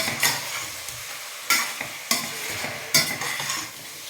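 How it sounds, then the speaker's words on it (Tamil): Chicken biryani masala with added spice powders being stirred in a pot, a few sharp scraping strokes of the spoon over a soft sizzle, close and moderately loud, with no talking. "சேர்த்துட்டு நல்லா கலந்துக்கலாம்."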